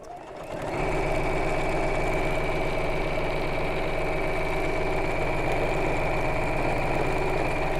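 A sewing machine stitches a bolster cushion cover, starting up and then running at a fast, steady, even hum with a rapid mechanical pulse, close and alone.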